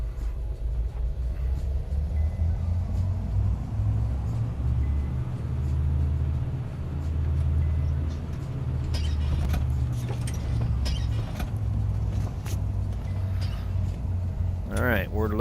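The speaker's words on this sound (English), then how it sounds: "Let it spool up. I want full power takeoff, both engines." Twin engines of a Cessna 337 on the runway run up to full takeoff power, a loud, steady low droning rumble with a swell midway, while a person talks over it.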